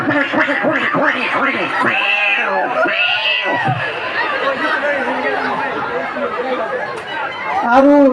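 A human voice imitates two cats fighting, with drawn-out wailing yowls, rising and falling caterwauls and snarling chatter, loud and close throughout, ending in a sharper screech.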